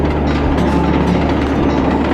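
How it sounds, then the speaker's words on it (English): A train rumbles past in the video game Sly 2: Band of Thieves, a steady, loud low roar with a rolling clatter that fills the whole moment without any talk. "Did you just get run over by the train?"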